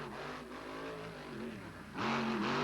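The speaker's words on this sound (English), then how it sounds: "Truck high-sided, he's on the throttle." A powerful monster truck engine roars and climbs in pitch during a 1995 race in Lima, Ohio, then surges louder as the throttle opens near the end, the truck high-sided.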